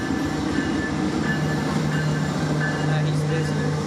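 Steady close rumble of a passing CPKC freight train on a smoky day, wheels and cars rolling continuously with a faint squeal and thin tonal hum.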